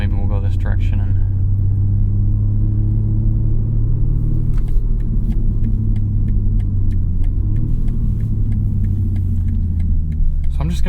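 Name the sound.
BMW M3 Competition inline-six engine while driving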